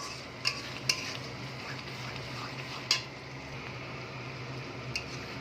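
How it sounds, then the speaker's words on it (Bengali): Chicken kofta curry masala sautés in a pan with a low continuous sizzle, broken by a few sharp utensil clicks against the pan, close and fairly quiet, with no voices. "এটাকে নিয়ে একটু ভালো করে একটু কষাবো"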